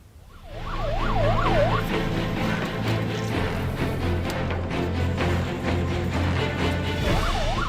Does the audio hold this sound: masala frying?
no